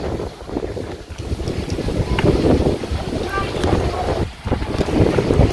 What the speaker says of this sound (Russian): Сильно неспокойно Черное море.